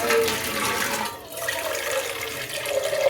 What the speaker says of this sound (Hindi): ये अब इसमें जो है ना पानी भरते हैं। ये हमने चला दी टूटी।